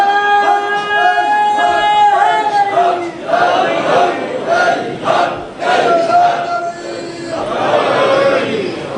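Crowd at a Shia majlis in an imambargah raising loud chanted slogans in rhythmic surges, voices swelling together in repeated waves with a leading voice between the calls.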